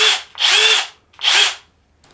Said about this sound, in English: We got the Hercules impact wrench.